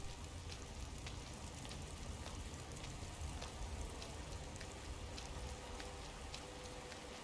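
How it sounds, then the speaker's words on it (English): Steady rain hisses throughout, a dense wash of drops with faint scattered patters, continuous and even, no voices; rain in a city in the video game Skyrim. "Back outside, it's still raining."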